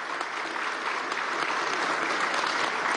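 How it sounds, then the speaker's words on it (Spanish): Crowd applause at a Venezuelan government economic event led by President Maduro, sustained loud clapping from many people, steady and close throughout. "¡Aplauso!"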